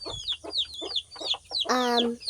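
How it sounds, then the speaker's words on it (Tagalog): A chicken clucks in quick, repeated bursts nearby, ending in a longer drawn-out squawk; the calls come in an uneven rhythm. "Manok, alam mo pag-away."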